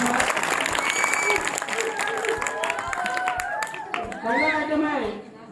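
An audience at a children's magic show breaks into sustained applause, with dense clapping and crowd noise and a voice speaking over it, before the clapping thins out near the end.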